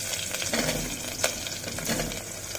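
Raw mango pieces go into a hot pan for mango pachadi and sizzle steadily, with a few sharper crackles and stirring scrapes over a soft frying hiss, close and moderately loud.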